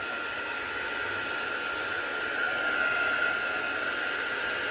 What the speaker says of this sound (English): I'm going to get my heat tool and I'm going to dry that just as it is